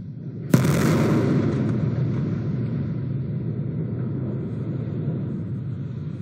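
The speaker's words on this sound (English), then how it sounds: "Here's coverage of the Booster 7 test when an unexpected explosion happened." SpaceX Starship Booster 7 blows up during a test: a sudden sharp blast followed by a heavy, sustained roaring rumble that stays loud and distant-sounding to the end.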